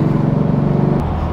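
The Coopster, an extraordinary motor car, drives past with a loud, close engine drone that shifts pitch about midway through this brief moment.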